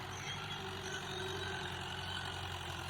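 Tractor engine running steadily while plowing a field, a continuous low rumbling drone with no breaks throughout.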